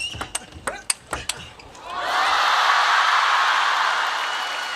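A crowd at a table tennis match, a Champions Chongqing 2025 round-of-16 singles, breaks into a loud sustained roar of cheering and applause just after a quick series of sharp ball pings from the rally.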